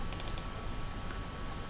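Clicks and key presses on a computer keyboard while working in an Excel spreadsheet: a quick burst of four or five light taps near the start, then a quiet steady background.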